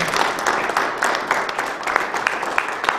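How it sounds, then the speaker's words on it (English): Applause from the audience at a 1 Million Cups startup pitch event in Cherokee, a dense, fairly loud burst of clapping with some sharper individual claps standing out, lasting about three seconds. "let's give a round of applause for Love Battle"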